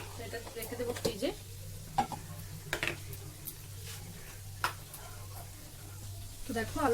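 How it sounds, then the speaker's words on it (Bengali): Potatoes fry in a pan with a steady sizzle, broken by repeated scraping stirs of a utensil, over a constant low hum. "তো দেখো আলুটা ভাজা হয়ে গিয়েছে।"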